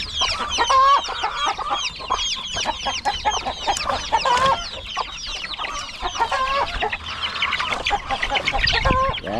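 Chickens cluck and chatter steadily at close range on a small farm, many short overlapping calls filling the air with no voices over them.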